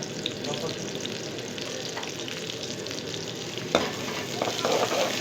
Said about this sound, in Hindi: उसी में मैं प्याज थोड़ा सा भूनूंगी। गोल्डन होने तक प्याज हमें पकाने हैं।